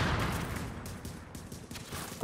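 Gunfire in The Division video game, a burst of dense, rattling shots running continuously at moderate level with a sharper report at the end.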